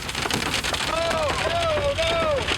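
Hail and strong wind batter during a storm as a dense, unbroken roar of impacts, with a wavering, wail-like tone rising over it midway.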